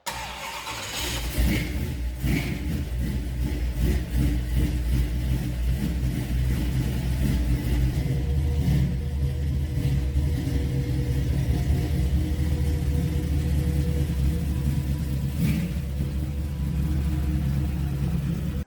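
A Dodge D150 race truck's carbureted engine idles steadily, with a loud, close, even rumble and slight roughness throughout and no voices.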